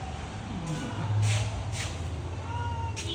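A cat meows a few times near a car amid steady background noise and a low hum, the cries short and moderately loud.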